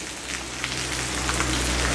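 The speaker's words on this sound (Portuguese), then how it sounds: "chuva nesta quinta-feira, 4 horas da tarde, aqui em Rolândia, norte do Paraná" A moderate afternoon rain falls in Rolândia, northern Paraná, a dense, steady hiss of drops striking surfaces, constant throughout with no voices.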